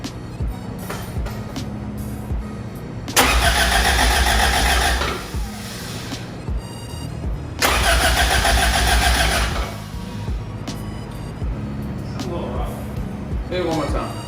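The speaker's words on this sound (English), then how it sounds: "we're gonna actually just try and crank this thing over with a fresh battery and get some oil pressure built up" A Honda B20 VTEC engine swapped into a lowered Integra cranks over on a fresh battery, two loud sustained bursts of starter whirring standing out above quieter workshop background noise, with no spoken voices heard during either cranking attempt.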